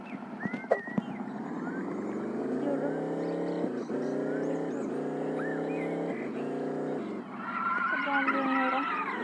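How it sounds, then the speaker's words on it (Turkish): A car driving in a video game, with a steady revving engine whose pitch climbs and drops through gear changes, plus tire squeals, all loud and continuous. "Şimdi arabayla ben oraya gidiyorum."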